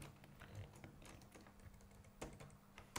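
Keys clatter on a computer keyboard as HTML is entered, a faint, uneven run of light taps with a few sharper strokes and no talking.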